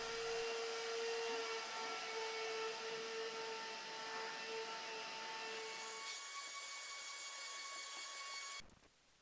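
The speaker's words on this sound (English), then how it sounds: "I'm then giving it one more vacuum before drying with a clean cloth." A vacuum cleaner whines steadily and close on the carpet of a BMW E30 Touring, holding a high, even drone with faint shifts in pitch, then cutting off abruptly near the end.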